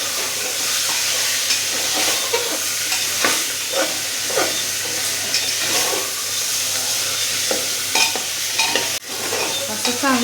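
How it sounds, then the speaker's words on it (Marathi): Mutton sautés in a pan, sizzling steadily while a spoon stirs and scrapes it in repeated strokes, close and fairly loud, with a sharp clink near the end. "चांगलं परतून घेऊया."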